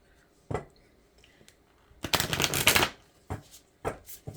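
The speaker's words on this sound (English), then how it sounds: "Give them a couple shuffles." Cards riffled several times: short crisp bursts, then a longer fluttering shuffle, and a few more quick riffles, close and clear with no talking.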